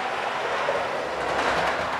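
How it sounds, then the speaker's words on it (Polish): A PIKO model locomotive rolls over a triple turnout on a model railway, giving a steady, close whirring rumble with faint rail clatter throughout. "ta lokomotywa nie wykolei tutaj na tym potrójnym rozjeździe Piko"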